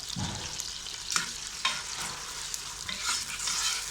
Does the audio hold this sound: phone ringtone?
no